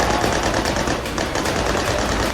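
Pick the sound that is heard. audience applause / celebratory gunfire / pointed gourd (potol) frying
celebratory gunfire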